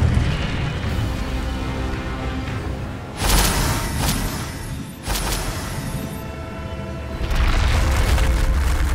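Incendio fire spell bursts in Hogwarts Legacy: several loud whooshing booms and flares over a dense, rumbling game soundscape, with no talking.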